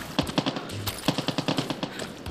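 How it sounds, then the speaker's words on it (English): Rapid bursts of video game gunfire in Far Cry 6 crack out in quick, uneven volleys, loud and close, with a brief pause partway through. "I hear gunshots."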